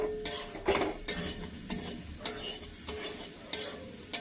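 Sugar being stirred in a hot pan, with repeated scraping strokes of a utensil against the metal about every half second over a faint sizzle, close and without voices.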